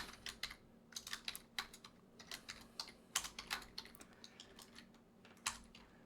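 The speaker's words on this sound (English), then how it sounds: "If I can remember how to type this morning." Computer keyboard typing in quick irregular bursts of clicks while entering an Nmap scan command, close and fairly quiet, with no talking.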